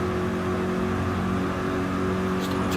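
Race cars in a racing video game at Grand Valley - Highway 1 drive past the pit exit, a steady, loud engine drone with a sustained tone and a slight swell as they come close.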